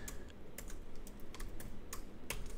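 Code being typed on a computer keyboard, a quick irregular run of crisp key clicks close to the microphone, with no talking.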